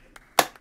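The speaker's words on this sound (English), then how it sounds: "round of applause!" A few sharp hand claps, three or four separate bursts with one louder clap in the middle, close and dry, with no voices.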